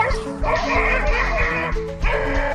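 A dog yelps and barks in short sharp bursts after confronting a large iguana, close and loud, over a busy mix of other noise.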